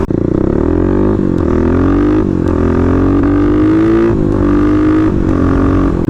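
A Kawasaki KLX351 dirt bike engine revs loud and close, its pitch rising and falling in repeated throttle blips over a steady rumbling idle.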